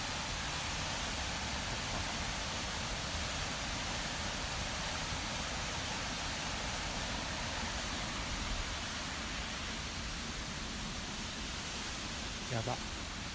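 Genji Falls at a shrine roars in a dense, continuous rush of falling water, loud and close, steady throughout with a brief faint sound near the end.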